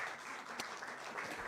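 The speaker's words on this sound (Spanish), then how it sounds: "Recibamos al pastor Gabriel Paredes con un fuerte aplauso" Audience applause welcoming a pastor at a live church event, a dense, steady wash of clapping that holds evenly through the short stretch at moderate distance.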